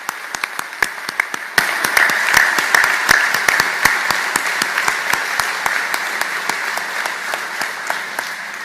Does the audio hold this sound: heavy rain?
no